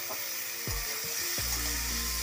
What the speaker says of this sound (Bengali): কেটে রাখা লতিটিকে দিলাম। দিয়ে আরও 5 থেকে 7 মিনিট ভাজবো, যাতে এটি সিদ্ধ হয়ে যায়।